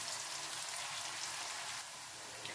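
Onions soften in a pan for chicken gizzard bopis, a soft, steady sizzle with fine crackle throughout, fairly quiet and without voices.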